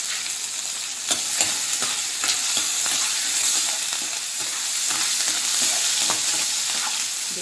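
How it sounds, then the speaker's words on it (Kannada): Peanuts fry in oil with curry leaves and green chillies for capsicum poha, a steady, bright sizzle with repeated scraping stir strokes close by, no voices. "ಇದು ಶೇಂಗಾ ಸರಿ ಫ್ರೈ ಆಗಬೇಕು"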